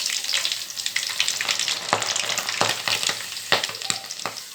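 Green gram frying in hot oil for a special boondi mixture, a steady close sizzle broken by sharp pops and crackles as the skins burst, occasional stirring audible, no voices.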